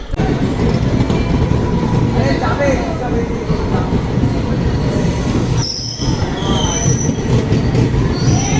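The 13150 Kanchan Kanya Express runs from Siliguri towards Sealdah with a loud, constant roar of wheels on rails, and high metallic wheel squeals rise and fall above the rumble throughout.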